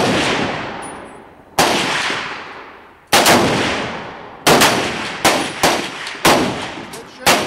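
Rifle gunshots crack loudly at an outdoor CMP shooting match at a fish and game club, sharp reports with ringing decays, first spaced slowly, then coming in a quicker irregular string of overlapping shots.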